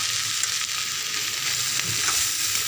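Red chili hits hot oil in a pan while cooking arbi sabzi, giving a steady, close, hissing sizzle that holds without a break, with no voices.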